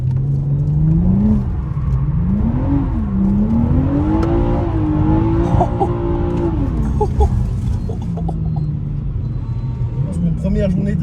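A car engine drifting on a track (Nissan 370Z, BMW 340i, M3 F80) drones and rises in long swooping revs, held near and loud, with people talking over it.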